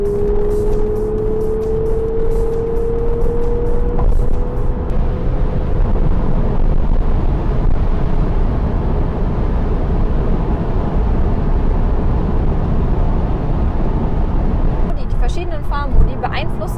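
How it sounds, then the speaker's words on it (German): Porsche 911 Carrera GTS cabriolet with a 450 PS turbo engine accelerating hard in Sport Plus mode, a loud sustained engine roar with a rising tone early on, heard from inside amid wind and road noise. "Wie gut der Turbomotor seine 450 PS umsetzt, das teste ich jetzt."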